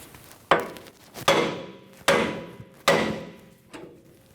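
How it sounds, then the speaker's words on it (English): Four sharp metallic hammer blows on a 2005-2015 Toyota Tacoma steering knuckle at the tie rod end, spaced under a second apart, each ringing briefly and decaying, close and loud. "We're going to bonk the knuckle at the tie rod end to release the tie rod."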